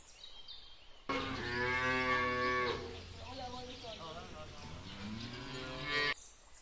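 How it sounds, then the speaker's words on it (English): A cow moos loudly and close up in two long, drawn-out lowing calls, the first rising and strong, the second wavering as it fades, with no talk over it. "cow."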